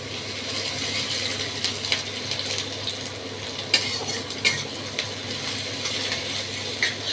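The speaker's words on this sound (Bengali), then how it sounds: "দিয়ে নাড়ব।" Spices with chopped ginger and garlic in ghee being stirred in a pan, giving a continuous scraping and gentle sizzle with occasional sharper metallic clinks of the spoon against the pan.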